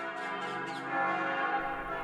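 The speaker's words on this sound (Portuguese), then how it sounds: "Pela manhã tocam em festa os sinos da Igreja da Dormição de Maria a poucos passos do próprio cenáculo" Festive morning peal of church bells at the Church of the Dormition in Jerusalem, near the Cenacle: dense, sustained ringing with overlapping tones, steady and fairly loud, with no voices.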